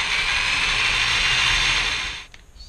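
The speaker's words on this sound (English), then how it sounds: "So I'm just going to drill out the head of this a little bit more." A power drill whines steadily for about two seconds while drilling out a stripped screw head on a VG33 fuel rail, then stops abruptly, leaving a faint mechanical click.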